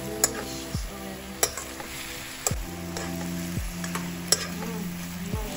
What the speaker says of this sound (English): Let's add the sauce that we made earlier. Mix it.